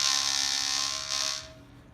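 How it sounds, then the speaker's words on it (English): A raspy, buzzing bowed tone from a single string of a tromba marina, its loosely attached vibrating bridge rattling throughout; loud and steady, then fading toward the end, with no talking. "it's got this vibrating bridge, which really isn't very well attached, and it makes this kind of raspy sound like this"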